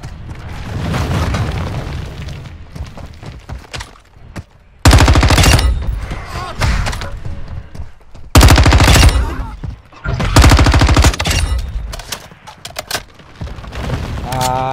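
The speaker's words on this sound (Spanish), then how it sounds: "Disparando." Warzone 2.0 gunfire, loud bursts of automatic fire and booming shots in several dense volleys separated by quieter stretches, with voices and game sounds underneath.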